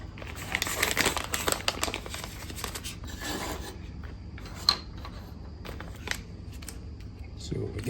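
Plastic bag of small parts and screws for a 3-D rod balance tool being rummaged and crinkled on a welding table, close rustling and clicking in bursts, louder early then sparser.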